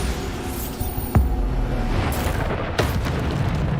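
Bombarda spell blasts in the wizarding game Hogwarts Legacy land as deep booming explosions, two distinct thuds rising out of a steady rumbling wash of battle noise, fairly loud with no talk over them.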